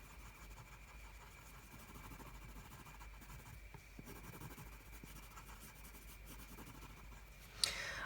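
A coloured pencil in Beige Sienna lightly shades across paper, making a faint, continuous soft scratching that holds steady for several seconds, then ends with a brief tap.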